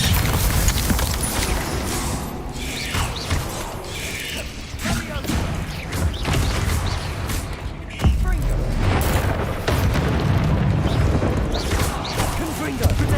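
Spellcasting in the Hogwarts Legacy video game as an Incendio fire spell goes off, a dense, loud rush of magical whooshes and impacts under continuous combat noise and shouted spell names.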